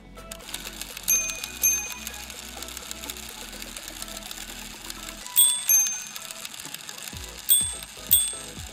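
A handmade minute repeater watch mechanism striking its chimes, a sequence of bright metallic dings alternating with gaps and soft mechanical whirring, quiet and close with no talk.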